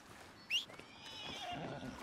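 A horse in Red Dead Redemption 2 gives a short, sharp neigh, near and fairly quiet, amid soft game ambience with faint hoof sounds.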